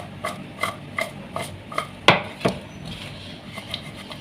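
Potato fries being tossed and mixed with a dry coating mixture in a bowl, giving a series of soft, evenly spaced scraping and clinking knocks with one sharper clack near the middle, close and fairly quiet.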